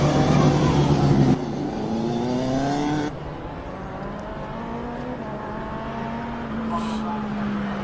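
Single-seater race cars pull away at a damp hill climb, engines revving through rising gear changes that fade into the distance, with a further car whining faintly afterward.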